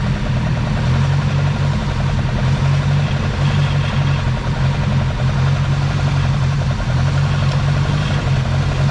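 A 1972 Ford Pinto engine runs steadily with a loud, rough low rumble and a rhythmic mechanical chatter, close by and alone without talk.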